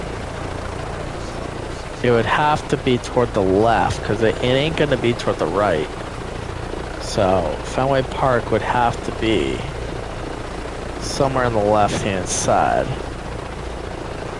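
Helicopter flying over Boston in Microsoft Flight Simulator 2024, a continuous low rotor and engine drone running steadily beneath someone talking for most of the stretch.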